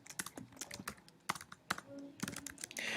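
Fingers tap quickly on a computer keyboard, a close run of crisp irregular clicks with short pauses between bursts.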